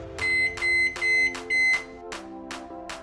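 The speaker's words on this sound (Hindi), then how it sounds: "इसके लिए हम अपने माइक्रोवेव में 2 मिनट का टाइमर सेट करेंगे" A Morphy Richards microwave oven timer beeps four times in long, evenly spaced tones, then gives three shorter, softer beeps, close and clear with no talking.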